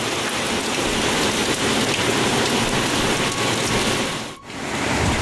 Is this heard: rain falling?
yes